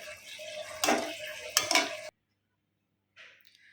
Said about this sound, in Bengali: এবারে আলুর সাথে মশলার সাথে ভালোভাবে কষিয়ে নিতে হবে